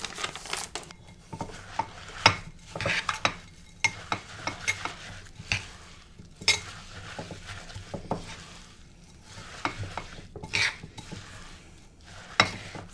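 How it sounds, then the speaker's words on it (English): Healthy Christmas cookie mixture being stirred in a bowl, irregular scraping and clinking strokes from a spoon against the sides, close and moderately loud with no speech. "So we're going to want to stir these up really, really good."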